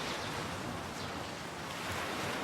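Ocean waves wash over partially submerged village ruins at Satabhaya on a coastline, a dense, continuous roar of surf mixed with wind buffeting, loud and unbroken throughout with no voices.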